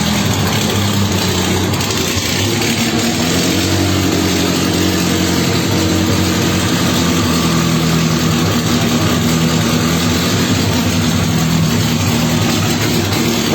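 A classic MG car engine idles steadily and loudly up close at a classic car show, a continuous low rumble with no talk over it.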